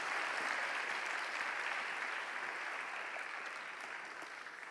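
Warm applause from a church young adults' Sunday worship congregation as their pastor comes forward, a dense steady clapping that holds throughout and eases slightly toward the end.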